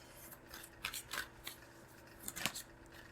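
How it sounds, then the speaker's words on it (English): Tarot cards are shuffled in quiet bursts of papery rustling and soft slaps, several short irregular flurries heard close up. "I'll start shuffling."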